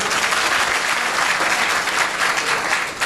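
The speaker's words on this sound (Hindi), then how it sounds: "ताली बजाओ।" Audience applauding at a religious question-and-answer gathering, a dense, steady wash of many hands clapping at once, loud and continuous throughout with no talk over it.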